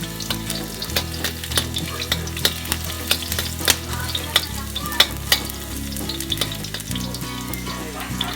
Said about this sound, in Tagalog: Unahin natin ang garlic. at haluin lang po natin.